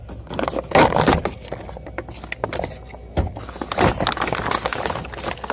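Plastic door panel trim on a Chevy Colorado is pried and peeled away by hand, with irregular cracking, scraping and snapping clips, close and fairly loud.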